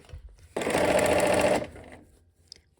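A sewing machine stitches a Y seam on fabric in one steady, close, whirring burst of about a second, stopping abruptly and followed by quieter handling noises.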